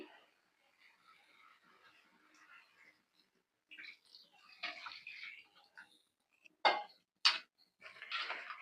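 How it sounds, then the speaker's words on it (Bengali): Water is poured over sautéed potatoes in a pan for a stinging catfish curry: faint clinks and light shuffling at first, then louder sloshing splashes and pouring bursts near the end. "আমি এখন ঝোলের পানি দিয়ে দিই।"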